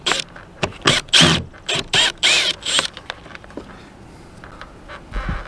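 A screw being driven in to hold a screw cover in place, heard as a run of short, loud creaking and ratcheting bursts close up, followed by quieter scattered clicks.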